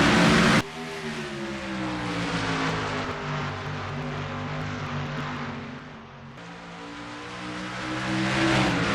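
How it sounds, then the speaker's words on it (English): Stock car engines drone and rev during a race at North Wilkesboro Speedway, a loud sustained roar that dips and swells as cars pass, with no talk. "37 machines ready to make noise in time for some Wednesday night racing from North Wilkesboro, North Carolina."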